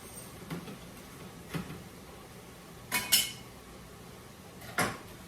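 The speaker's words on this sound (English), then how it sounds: "And now stir. Let that do its thing until the turkey is cooked." Turkey meat is stirred in a cooking pan, with a few scattered scrapes and clinks of a utensil against the metal over a low background hiss.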